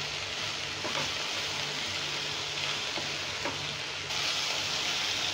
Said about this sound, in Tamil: இப்போ இது கொஞ்சம் நல்லா வதங்கிருச்சு